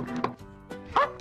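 A dog gives a few short, close barks in quick succession, with no talking over them.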